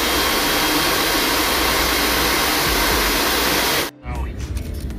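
A hair dryer blows hair at a salon in the UAE, a loud, steady roaring whoosh that cuts off abruptly near the end, leaving quieter room sound.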